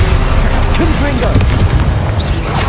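An explosive fire spell cast in the video game Hogwarts Legacy, played on hard difficulty: booming blasts and bursts over a dense, continuous layer of game effects and music, loud and close, with a voice talking throughout.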